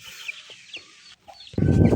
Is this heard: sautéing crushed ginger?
no